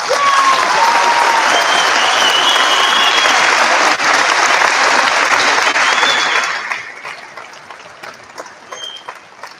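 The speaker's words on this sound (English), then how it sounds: "So let's give them a big round of applause." Loud, dense applause from the audience at a high school senior awards night, sustained for several seconds before tapering off into scattered claps.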